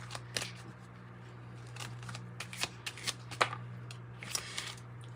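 Kipper fortune-telling card deck shuffled by hand: a rapid series of crisp riffling flicks and card slaps, close and distinct over a steady low hum, with no talk.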